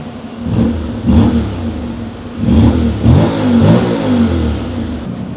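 A 2025 Honda X-ADV 750 fitted with an Akrapovic exhaust, silencer removed, revs repeatedly in close, loud, deep throttle blips that rise and fall over a rumbling idle, with no talking.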